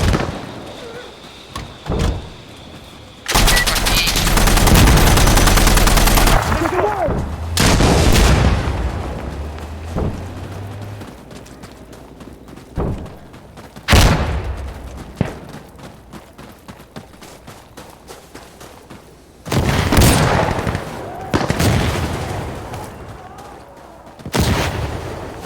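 Smoke mortar barrage in Insurgency Sandstorm, with repeated loud booming impacts and bursts arriving in clusters, one long rumbling blast near the start, and shouted voices between the hits.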